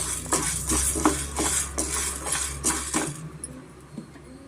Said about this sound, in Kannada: ಮೀಡಿಯಂ ಫ್ಲೇಮಲ್ಲೇ ನಾವು ಉದ್ದಿನ ಕಾಳನ್ನ ಹುರ್ಕೊಬೇಕಾಗತ್ತೆ